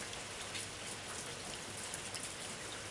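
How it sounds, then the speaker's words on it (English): Steady summer rain shower falls on a yard and porch, a dense, even hiss of drops with no breaks, fairly soft and close, with no voices. "The rain began to ease"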